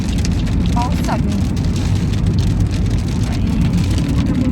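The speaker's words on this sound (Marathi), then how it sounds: "पाऊस चालू" Rain falling in the early morning, a steady dense patter over a loud low rumble from a nearby engine, with a person speaking over it.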